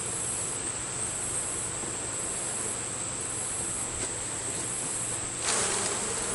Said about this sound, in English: Shake the bees off.